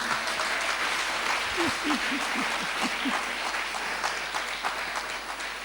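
A church congregation claps steadily in acclamation of Jesus during a French-language sermon, sustained applause filling the room with a brief burst of voices partway through.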